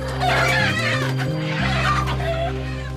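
Chickens cluck and chatter in a steady noisy stream, several birds close by, over a constant low droning hum.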